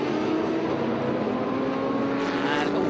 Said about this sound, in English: Ferrari 458 Challenge Evo of Jack Bitton